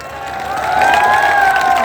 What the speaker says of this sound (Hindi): उसकी तालियां बनती हैं।